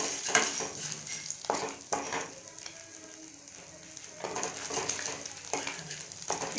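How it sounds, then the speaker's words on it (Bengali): Whole cardamom pods, cinnamon pieces, a clove and black cumin fry in hot oil, giving a soft, steady sizzle with a few stirring scrapes and clinks of the pan, close and moderately quiet. "দিয়ে এটাকে একটু ভেজে নিব।"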